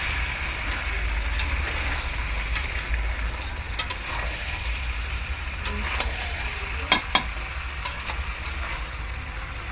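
Chicken bone pieces sauté over a high flame with a steady, close sizzle, broken by occasional sharp scrapes and clicks of a spatula against the pan.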